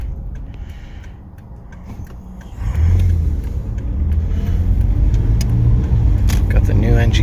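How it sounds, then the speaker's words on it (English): 2012 Toyota RAV4 V6 on a test drive around the block, a quiet interior hum that swells into a louder, steady engine and road rumble as the vehicle pulls away, with a voice talking over it. "Currently taking the Rav for a test drive."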